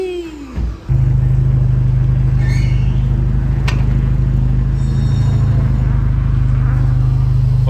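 VW Jetta with a 3-inch full stainless exhaust, a brief engine blip dropping off before a loud, sustained deep rumble holds steady at high revs, close by, with no voices.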